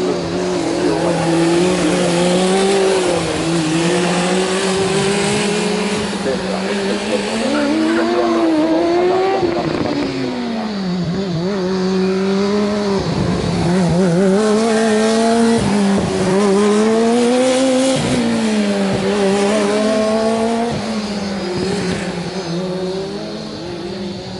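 High-revving student formula race car engines scream past during an endurance race with rising and falling pitch, loud and continuous, with occasional tire squeal.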